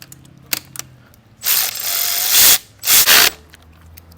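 Handlebar bolts on a Buscadero BSX 110 motorcycle are tightened with a ratchet, giving two close, loud bursts of rapid clicking separated by a short pause, with faint taps around them.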